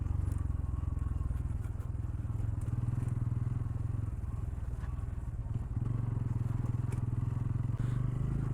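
A motorcycle rides down toward a beach at Tajpur, its engine a steady low rumble close by, with crunching and clattering from the rough ground beneath.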